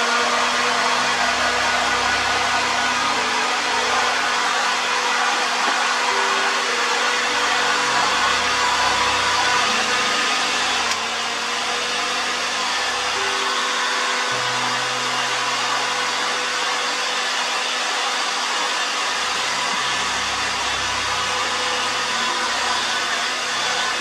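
Heat gun blowing steadily to dry a layer of paint during a headlight conversion on a modified Transit Connect MK1 camper van, a continuous airy roar with a brief dip in its low hum partway through, with no talking.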